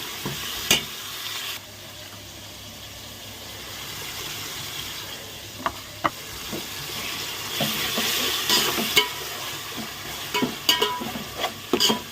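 Ginger, garlic, mint and coriander stirred and frying in a pan: a steady low sizzle with scattered scraping clicks of the spoon against the pan, growing busier toward the end, with no talking.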